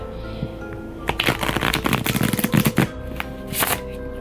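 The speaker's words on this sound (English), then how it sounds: "this is just for the shuffle." Tarot cards are riffled and shuffled in quick, crisp bursts of rapid flicking, close up, with a short pause before a final brief shuffle.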